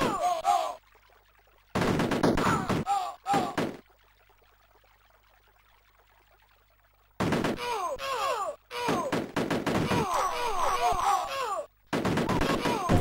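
Enemy gunfire in the Amiga 600 version of the game Indiana Jones and the Fate of Atlantis, bursts of rapid crackling digital shots in several loud clusters separated by near-silent gaps.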